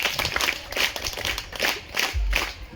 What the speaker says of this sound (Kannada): ನೋಡಿ, ಹೊಡೀರಿ ಚಪ್ಪಾಳೆ ಅವನಿಗೆ.